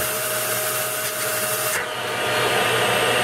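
A steady, loud broadband roar of a powerful vacuum running continuously while cleaning rust from a 1917 Buick engine, with a slight shift in tone partway through.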